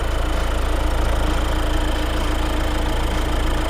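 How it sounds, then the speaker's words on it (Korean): A Kia Sorento fourth-generation 2.2 diesel idles with the hood open, a steady, even rumble with a faint rhythmic diesel clatter and no speech. "엔진 소리 일정합니다"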